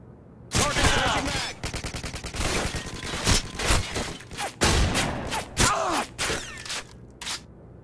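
Gunfire in Call of Duty Modern Warfare 2 on the Highrise map during Search and Destroy, loud rapid bursts of automatic fire with sharp single shots in between, close and dominant, repeating across the clip with short gaps.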